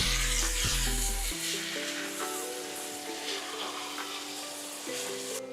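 Short rib ingredients sizzle steadily in a pot over medium heat while being stirred. Background music with sustained tones plays over the frying.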